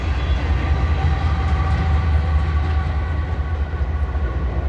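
An eastbound BNSF grain train with a DPU locomotive rolls through Grand Island, a loud, steady rumble of wheels and rail cars with no break, alone and close by throughout.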